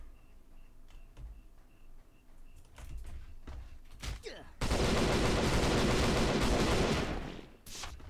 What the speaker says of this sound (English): So to gun down the abominations.